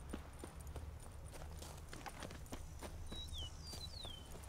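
Horse hooves clip-clop at a steady walking pace in The Witcher 3, a continuous run of close hoofbeats over ambient game sound, with a few high birdlike chirps appearing near the end.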